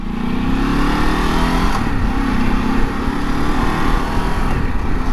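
A Ducati DesertX motorcycle being ridden just after a U-turn, its engine droning loud and steady throughout, mixed with rushing wind noise and no talking.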